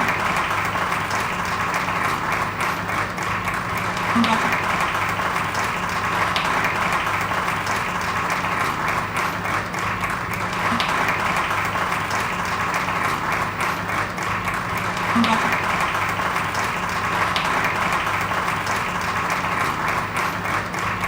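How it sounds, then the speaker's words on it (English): At an awards ceremony honoring African business leaders, a large audience applauds the recipient in sustained, even clapping that holds at a loud, steady level throughout, with faint crowd murmur underneath. "Allow me to ask you for a resounding round of applause for our recipient, Dr. Manish Shah."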